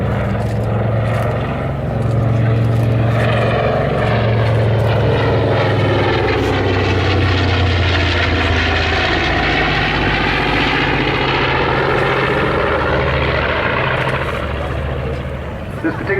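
A B-25J-20 propeller bomber, built in 1944 in Kansas City, flies past at a seaside air show with a loud, steady piston-engine drone that rises and holds, while a commentator speaks over it.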